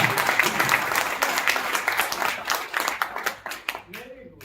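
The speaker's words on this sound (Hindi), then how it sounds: "जोरदार तालियां, जोरदार तालियां।" Loud, dense applause from an audience at a motivational talk, close and energetic at first, then thinning into scattered claps as a voice begins speaking near the end.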